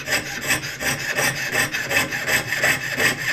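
A hand saw works back and forth to round off material, each rasping stroke close and rhythmic, about three strokes per second without pause.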